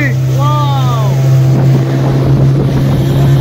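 A small passenger boat in Kolkata runs with a steady low engine hum, wind buffeting the microphone loudly throughout, and a few brief faint tones near the start.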